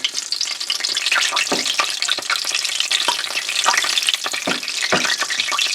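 A chimichanga fries in hot oil with a lively, crackling sizzle. Bursts of spattering pop irregularly throughout at a moderate level, with no talking.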